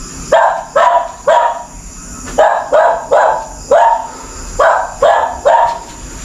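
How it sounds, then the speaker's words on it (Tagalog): A dog barks at night in a cemetery, loud, close, repeated barks in quick pairs and triplets with short pauses between the bursts. "Parang galit sa atin yung aso, bro"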